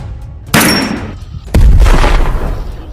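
Two sharp gunshots ring out in a Hindi comedy film scene, about a second apart. Each is a loud, close crack with a short decaying tail, and the second is heavier and booming.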